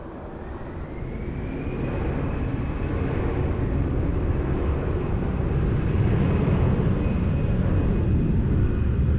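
Airliner taking off from runway 20 at Lisbon Airport, a steady broadband engine roar that builds gradually and holds loud and sustained throughout, with no voices.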